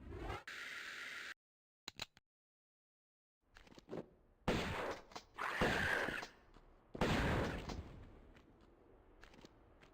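Gunfire bursts from Lara Croft's shotgun in the Tomb Raider I Remaster video game, several loud separate blasts with short gaps and silent stretches between them, with no talk.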